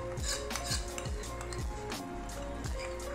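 Spiced yogurt is stirred into browned onions in a pan while making aloo bhujia, with repeated clinks and scrapes of a spoon against the pan in a steady rhythm, close and moderately loud.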